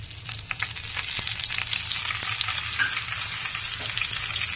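Mustard seeds, cumin, urad dal and sliced dried red chillies crackle and sizzle in hot oil for a cucumber chutney tempering, a dense steady frying hiss dotted with sharp pops and a few stirring clinks.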